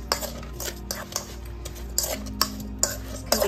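A spoon quickly stirs lemon zest and lemon into sliced peaches in a bowl, clinking sharply against the side in a rapid, uneven rhythm over a low steady hum.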